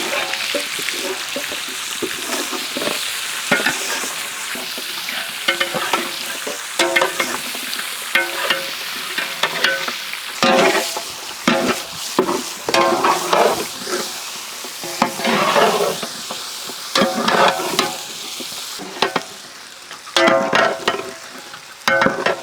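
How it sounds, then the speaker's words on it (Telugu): Pre-boiled chicken stirred into onions and spices frying in ghee for white chicken pulao, a loud continuous sizzle broken by frequent scraping clatter of the spoon against the pan. "దీంట్లోనే మనం ముందుగానే బాయిల్ చేసి పెట్టుకున్న చికెన్ యాడ్ చేద్దాం."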